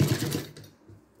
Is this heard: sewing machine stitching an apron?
yes